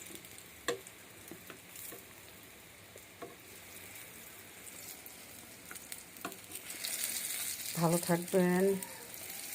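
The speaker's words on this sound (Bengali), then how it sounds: "এইভাবে বেগুন ভাজি করলে অনেক টেস্ট আছে।" Eggplant slices fry in a pan with a steady broadband sizzle that swells louder toward the end, with occasional utensil clicks and a voice speaking over it.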